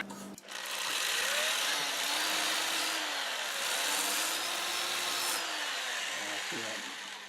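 A Sandoflex brush spins against a mimosa root vase to clean out its crevices, giving a continuous whirring, brushy rasp. Its pitch wavers up and down as the pressure shifts.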